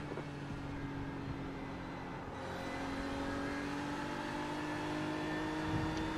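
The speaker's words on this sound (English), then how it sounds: "Turbo noise is very loud." A race car in the 24 Hours of Spa racing video game sounds a steady, high turbo whine over a constant engine drone, fairly faint and unbroken, with no talking.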